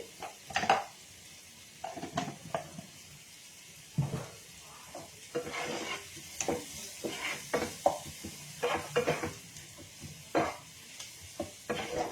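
Carrots sizzling in a pan, with repeated scraping stirs and clatters of a utensil against the metal, close and irregular over a quiet frying hiss, no speech.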